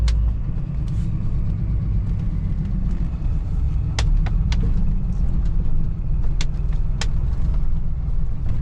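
A car drives the last stretch home, with a steady low engine and road rumble heard from inside the cabin throughout and a few sharp clicks and taps over it.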